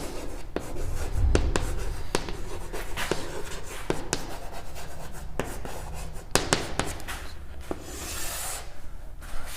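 A marker squeaks and scratches across a board as a matrix-addition problem is written out, with short strokes and taps in an uneven rhythm, close and clear with no speech.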